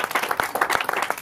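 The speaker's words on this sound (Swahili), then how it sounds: "pigieni makofi." A crowd breaks into brief clapping, individual claps audible as uneven sharp bursts in a short, moderately loud patter.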